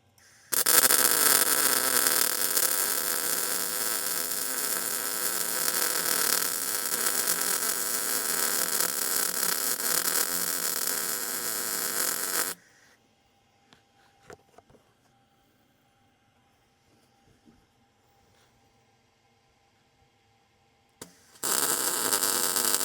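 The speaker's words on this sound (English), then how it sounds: "This is probably not what you're supposed to do with a welding machine." Continuous loud electric welding crackle and hiss on a skid steer bucket with large gaps, steady for about twelve seconds, then stopping to near silence with a few faint clicks before the arc crackles up again at the end.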